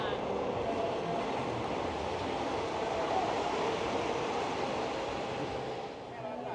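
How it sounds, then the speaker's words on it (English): Steady low rumbling of a passing train at Taling Chan Floating Market in Bangkok, Thailand, continuous and fairly close, with faint background voices mixed into the wash of noise. "there goes the train by"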